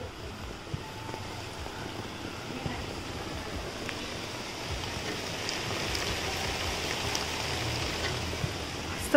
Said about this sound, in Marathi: मस्त पाऊस येतोय